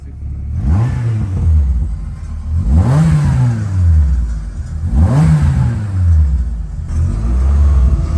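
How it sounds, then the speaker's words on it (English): Car engine at Santa Pod revved three times in even succession, each blip rising sharply and then falling back, loud and close, with a rumbling idle between them and no talk. "Oh, just to give it a little rev."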